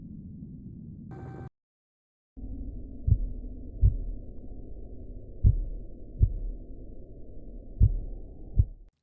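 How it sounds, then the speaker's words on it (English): A very slow heartbeat in the video game Parasite Infection Detection Agent, with widely spaced low thumps roughly every one to two seconds over a steady low hum, following a brief tone and a moment of silence. "Very slow heartbeat in this guy."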